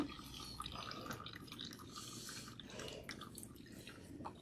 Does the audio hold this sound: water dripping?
yes